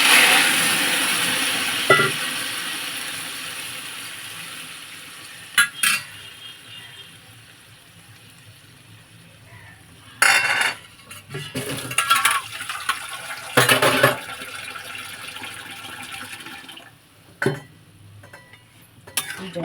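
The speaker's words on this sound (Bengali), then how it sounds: "এই জলটাকে দিয়ে আমি উলট পালট করে নাড়াবো" Rice being stirred with water in a small pot, with intermittent scraping, clinks and knocks of a utensil against the metal between quieter stretches of faint bubbling, close by.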